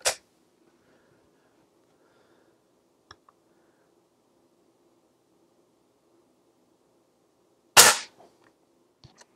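A Gamo air rifle is cocked and fired, with a sharp loud shot at the start and another near the end, separated by faint low handling noises and a few small clicks.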